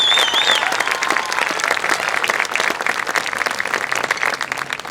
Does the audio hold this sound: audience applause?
yes